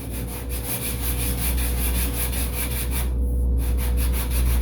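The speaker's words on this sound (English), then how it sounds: "going to sand it smooth to a certain degree" Rhythmic back-and-forth sanding strokes on the wooden horizontal stabilizer of a giant-scale P-47 Razorback model plane, even and repetitive, close by with a low steady hum underneath.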